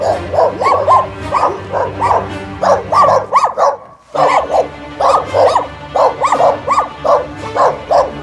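A chorus of village dogs in Greece barks close by in loud, repeated bursts, several animals overlapping, with a short lull midway before the barking resumes.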